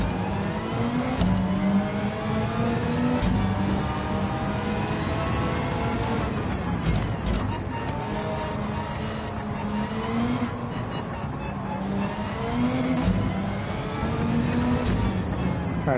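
A Nissan Skyline Super Silhouette race car in Gran Turismo 7 revs hard through repeated upshifts, its loud engine climbing and dropping in a sawtooth pattern, close and continuous.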